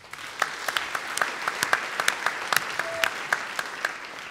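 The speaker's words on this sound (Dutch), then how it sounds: "Ik heb nog helemaal niks gedaan en ik krijg applaus." A live audience applauds at a Dutch literary event, Writers Unlimited 2012: a steady, full crowd clapping with individual sharper claps popping out, sustained throughout without talk.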